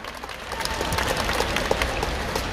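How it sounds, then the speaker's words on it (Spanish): Loud, dense clapping from a crowd at a quinceañera celebration, cheering on the chambelán; a steady burst of many hands that fills the whole moment without letup. "fuerte el aplauso para el chambelán"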